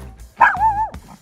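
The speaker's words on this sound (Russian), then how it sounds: "Юми, нельзя лаять" A small dog, one of several chihuahuas on a river outing, gives a single short high yip-bark up close, a sharp onset sliding into a brief whiny tone.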